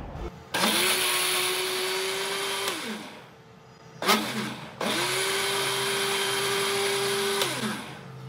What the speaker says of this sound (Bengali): তাই আমি একটু ব্লেন্ডারে ব্লেন্ড করে নিই, যাতে একটু স্মুথি টেক্সচারটা আসে